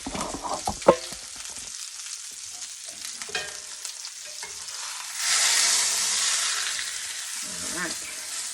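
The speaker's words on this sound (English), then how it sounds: "now we got to turn this roast over" A pork loin roast sizzles in a hot pan as it is turned over, a few clunks of the utensil and then a steady, close frying hiss that swells midway and settles.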